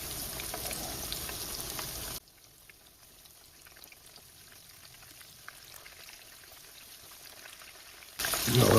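Pork steak chunks frying in a pan in small uncrowded batches, browning and rendering fat, giving a steady soft sizzle that drops quieter mid-clip before swelling louder again at the end.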